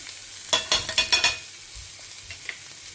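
Boiled potatoes fry with Kashmiri chili powder and turmeric as a spatula scrapes and stirs them in a pan, a quick burst of four or five close scrapes, then a soft background sizzle with a few faint taps.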